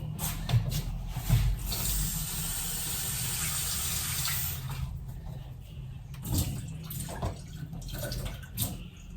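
Water running from a tap into a pot to wet it before adding millet pap for mahangu porridge, a steady near splash for several seconds that fades into softer drips and handling clatter.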